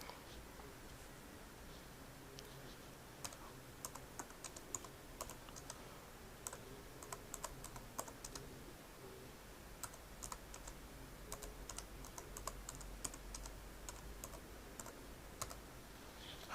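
Someone types a search phrase on a computer keyboard, producing quick, soft, irregular key clicks close by over a faint steady hum.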